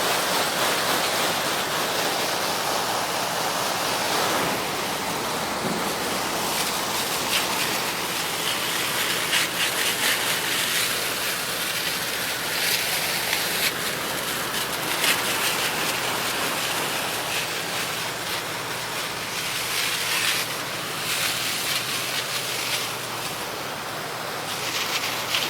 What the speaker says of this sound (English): what that power washing is going to do is hopefully just blast off any bugs